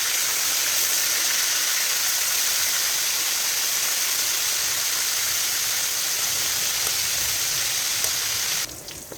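Sliced bistek beef sizzling in a hot pan just after being flipped, a loud, steady frying hiss that runs unbroken before dropping off abruptly at the very end, with no talking.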